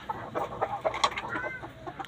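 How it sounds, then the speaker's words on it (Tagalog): Fighting roosters kept for cockfighting cluck in short, irregular bursts at moderate volume, with faint background noise and no talking. "Ito yung mga manok ni tatay, pansabong"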